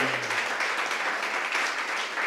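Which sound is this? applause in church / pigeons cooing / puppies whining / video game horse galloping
applause in church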